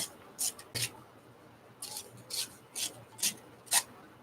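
Scissors trimming paper for a craft collage, a series of short close snips in uneven rhythm, quiet against a soft background.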